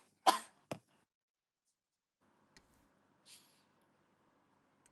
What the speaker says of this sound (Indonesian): Tapi kayaknya pengaruh kamu lagi batuk gini deh.